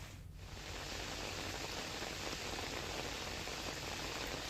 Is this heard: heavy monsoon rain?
yes